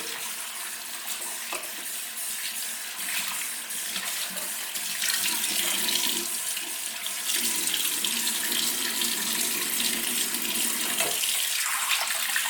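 Tap water runs steadily into a bathroom sink while hands are rinsed before beard shaving with a razor, a continuous close splashing hiss that grows slightly louder partway through, with no talking.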